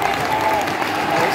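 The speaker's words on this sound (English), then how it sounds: "Away fans clearly in good voice." Away football fans roar steadily inside a stadium before a Rotherham Millers home match against Wednesday. The dense, continuous crowd noise fills the whole moment, loud and unbroken.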